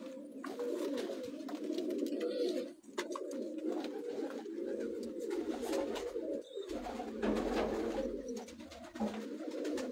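Sialkoti breeder pigeons cooing on a rooftop loft, a steady, dense chorus of soft low coos close by, with occasional wing and perch noises and no talk.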